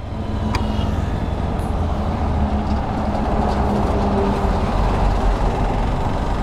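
A Hero Xpulse 200 4V motorcycle engine running steadily in third gear, with a loud continuous low drone and rumble mixed with wind and road noise throughout.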